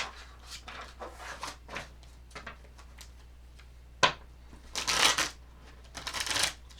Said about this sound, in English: Shuffling skills are suffering today.